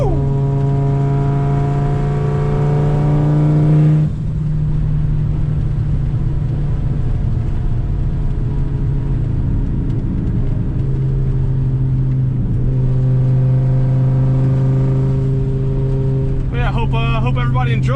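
A turbocharged car fitted with a Borg Warner S257sxe turbo and a shift cut accelerates hard and loud, engine pitch climbing steadily, dropping at a quick gear change, then rising again before a brief final burst.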